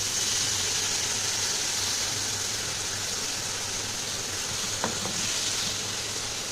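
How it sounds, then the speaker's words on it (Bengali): Potatoes and onions fry in a pan with a steady, close sizzling hiss, fairly loud and unbroken, and a single light clink of a utensil partway through. "আলু পেঁয়াজ ভাজা হচ্ছে"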